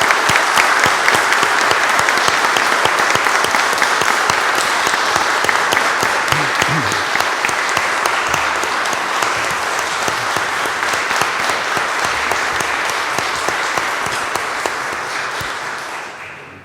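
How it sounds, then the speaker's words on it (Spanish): Audience applauding newly sworn-in lawyers at a Supreme Court swearing-in ceremony, sustained loud clapping from a large crowd in a hall that carries on evenly and fades out at the end. "Aplaudamos este logro."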